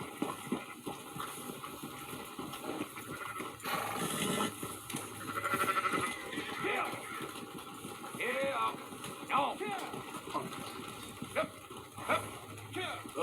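Sheep in a ranch herding scene from the video game Red Dead Redemption 2 give scattered bleats amid shuffling hooves and ambient noise, while a voice talks intermittently over them.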